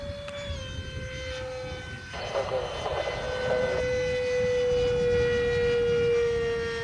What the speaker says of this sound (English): Much quieter with the 70mm fan too.